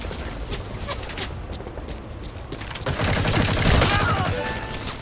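Gunfire in the Metal Gear Online video game, a dense burst of rapid shots swelling midway and carrying on over a steady background of game noise.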